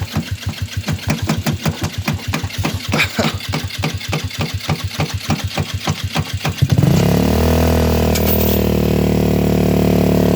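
A homebuilt engine called the Hammerhead on its first start: rapid rhythmic chugging for several seconds, then it catches and roars into a loud, steady high run with a stuck throttle.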